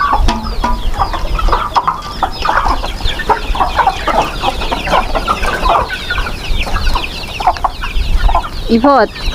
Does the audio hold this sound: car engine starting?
no